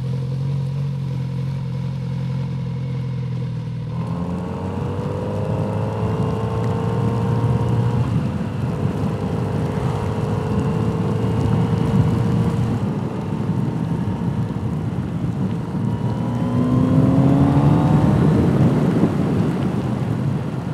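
A Kawasaki Z900RS retro motorcycle ridden on an Austrian test day: the engine revs up in rising sweeps again and again over a steady roar of wind and road noise, with no talking.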